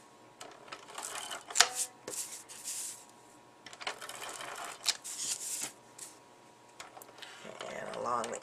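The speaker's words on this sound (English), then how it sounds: "So we'll get some tape on this one." Adhesive tape pulled and pressed onto a handmade Easter card, giving bursts of crinkly ripping and rubbing that come and go alongside quiet talk, with a brief sharp crackle near the start.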